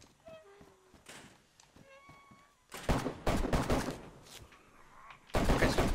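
Gunfire in the DayZ video game, bursts of loud rapid shots arriving in several clusters between quieter stretches that hold tonal game sounds and small thuds.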